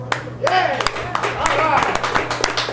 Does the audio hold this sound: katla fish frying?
no